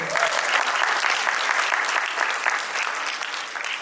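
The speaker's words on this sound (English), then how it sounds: "Can we have a round of applause for her?" Audience applause at a tech conference session, dense and steady clapping from a large crowd that holds at full strength throughout, tapering only slightly near the end.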